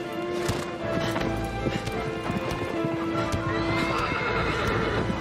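A horse in Shadow of the Colossus whinnies several times over steady clip-clopping hooves while someone talks over the gameplay.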